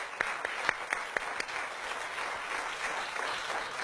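A TV morning-show studio audience applauds a guest, a steady wash of clapping with a few sharper individual claps standing out near the start, moderately loud throughout.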